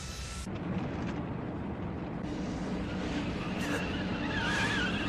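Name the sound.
car driving recklessly, skidding, in anime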